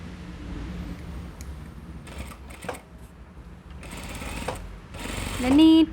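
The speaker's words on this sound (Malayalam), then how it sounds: "എഡ്ജിലൊരു സ്റ്റിച്ചിങ് കൊടുക്കണം കേട്ടോ." A sewing machine stitches along the edge of a frock in short whirring bursts with mechanical clatter between pauses, close up, with a voice briefly audible near the end.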